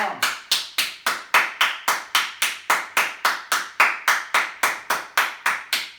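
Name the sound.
hands clapping palms together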